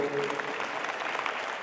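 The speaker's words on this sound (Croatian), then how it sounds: "Ispratimo ih još jednim lijepim pljeskom." An audience at a traditional folk instrument festival applauds with dense, continuous clapping that holds steady throughout the short burst, moderately close and fairly loud.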